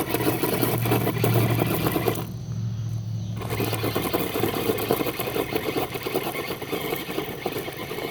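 Small R/C monster truck tires spin and churn against loose rocks, a steady buzzing whir that runs for several seconds with a short dip in the middle, heard close by.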